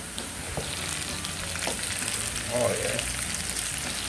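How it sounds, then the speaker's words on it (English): Southern-style hash browns of chopped potatoes fry in a heavy cast iron pan with a dense, steady sizzle like light rain, close up, with a brief short remark from a man over it. "Browning, starting to turn into the southern style hash brown, which ain't nothing but chopped taters."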